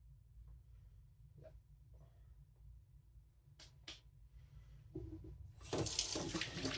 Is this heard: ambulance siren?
no